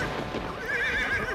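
A horse whinnies in a single wavering, fairly loud neigh over steady background noise, heard alone with no talking.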